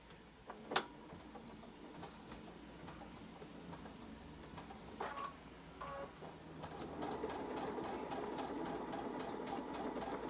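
Sewing machine stitching fabric scraps for a small house project, faint scattered clicks and handling noises at first, then a quiet, steady ticking run of the needle over the last few seconds.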